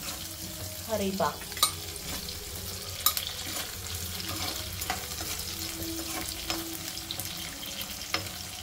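Chana dal and curry leaves fry in a pan for a cabbage and carrot fry, with a close, steady sizzle, a few sharp crackles and occasional stirring scrapes.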